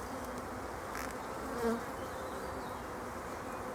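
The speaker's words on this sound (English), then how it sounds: "This is a lot of young bees, so that's perfect." A steady, dense drone of many honeybees buzzing in a hive, continuous and even throughout, with no talking.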